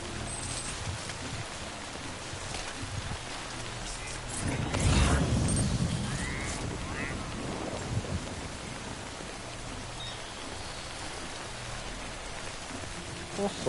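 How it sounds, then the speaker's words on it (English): Steady rain pours down in the video game Death Stranding, a dense continuous hiss across the whole stretch, with a brief heavier swell midway and faint game sounds underneath. "No end to this rain."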